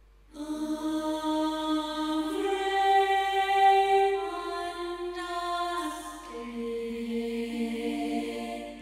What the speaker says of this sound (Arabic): وهاي صوت التراك بعد ما شلنا الفوكلز منه